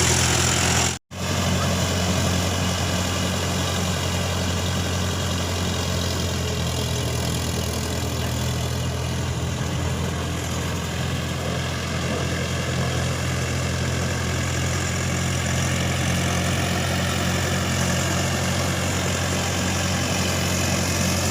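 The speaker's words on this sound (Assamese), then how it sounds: "এই বৰ্তমানে হাল বাই আছে ট্ৰেক্টৰে।" A steady, loud tractor engine drone runs continuously with a deep low rumble as it ploughs a field nearby; brief dropout near the start.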